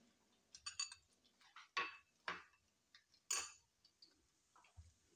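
Metal utensils clink and tap against a dish while a garlic, cumin and red chilli paste is stirred, a few sharp, quiet, irregular clinks close by with near silence in between.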